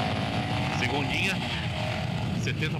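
A Yamaha XT 660 motorcycle revving hard in second gear on a short test stretch, a continuous rising engine drone with buzzy harmonics that holds steady throughout, loud and close.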